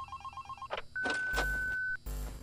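In Five Nights at Candy's, a telephone's rapid trilling ring opens briefly and then gives way to clicks, a sustained beep tone and thumping noises.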